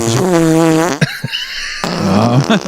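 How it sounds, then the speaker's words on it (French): A wet, sputtering fart sound effect, loud and close, with a long tonal bubbling stretch, a brief break, then a second rasping burst, with nothing else around it. "Ça, c'est dans la catégorie wet fart."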